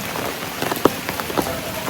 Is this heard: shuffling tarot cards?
no